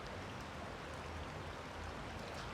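Rain falls steadily in Europe, a soft, faint, even hiss of drops with no distinct splashes or voices, continuous from start to finish.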